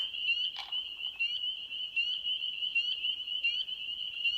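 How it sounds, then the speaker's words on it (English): A dense chorus of high-pitched spring peeper frogs calling from trees rings continuously, with sharp repeated calls standing out over the steady shrill drone. "That noise is made by a little tiny frog."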